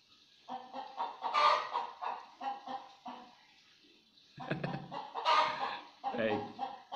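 Village chickens cluck in short repeated bursts at moderate distance, with a rooster-like call mixed in and quiet pauses between the clusters of calls.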